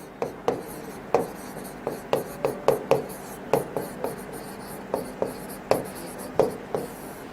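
A chemical structure's name is written out by hand in a run of crisp, regularly spaced strokes and taps, close and clear with no talking.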